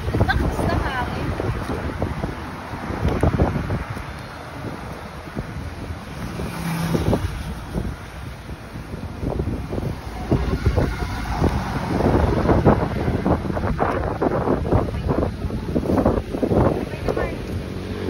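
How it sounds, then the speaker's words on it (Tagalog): Strong gusting wind buffets the microphone in a steady, loud rumble, with people talking and moving close by throughout. "Lakas na hangin."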